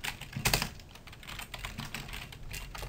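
Typing on a computer keyboard in short uneven bursts of quiet clicking key presses, close but soft, with no talk.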